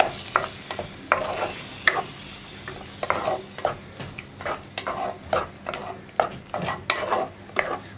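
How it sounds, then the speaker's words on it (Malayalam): Curry paste for a tomato and cowpea (vanpayar) curry being stirred in a hot pan, a steady run of repeated scraping strokes over a light sizzle, close and fairly loud with no talking. "ഇനി അരപ്പിൻ്റെ റോ ടേസ്റ്റൊക്കെ ഒന്ന് മാറി വരുന്നത് വരെ 2 മിനിറ്റ് ഒന്ന് ഇളക്കി കൊടുക്കുക."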